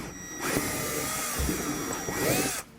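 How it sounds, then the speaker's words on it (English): A power drill whines steadily into wood while installing an RV door holder, a sustained high motor tone with slight pitch wobbles, starting and stopping abruptly. "And then now we're hitting the wood, so I'm going to go a little bit faster."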